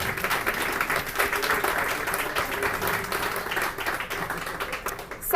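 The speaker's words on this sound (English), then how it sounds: "if we could get a round of applause for the food." A crowd at an open house event breaks into sustained applause, a continuous crackle of many hands clapping at moderate volume from nearby for several seconds.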